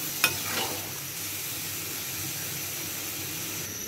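Hot oil sizzles steadily as fish fries in a pan, a continuous soft hiss with a faint clatter at the start.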